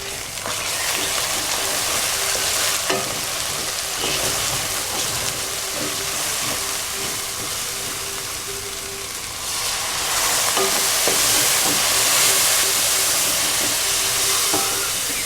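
Masala of crushed red chilli, turmeric and crushed coriander frying in a pan for a potato and capsicum dish, a steady close sizzle with occasional bursts, rising louder near the end.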